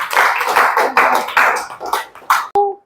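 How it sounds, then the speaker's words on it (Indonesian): A classroom of students clapping their hands in several bursts of rhythmic claps, loud and close, with a sharp tap and a brief tonal sound at the end. "berarti tepuk tangan dulu untuk pemerintahan kita"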